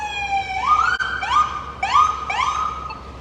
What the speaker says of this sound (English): We got an ambulance going by. Let's wait till this ambulance goes by us.